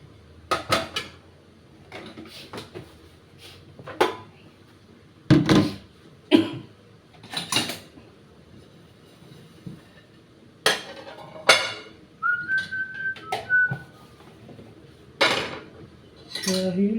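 Washed plates and glasses are put away in a home kitchen, making scattered close clinks, clatters and ceramic knocks in separate bursts with quiet gaps between.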